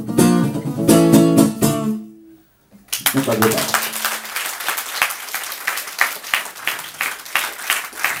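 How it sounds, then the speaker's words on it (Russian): Audience applause fills a poetry reading hall, a loud sustained wave of clapping from a crowd that starts abruptly after a pause and continues steadily, with a voice speaking briefly before it begins. "можна просто скоротити аплодисменти"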